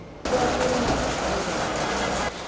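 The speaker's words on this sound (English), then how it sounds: "It has been raining all morning and it is still raining here at the Good Samaritan Inn in St. Andrew" Steady rain falls outdoors at the Good Samaritan Inn in St. Andrew, Barbados, making a continuous broadband hiss that starts abruptly after a brief quieter moment and keeps an even level, with no speech.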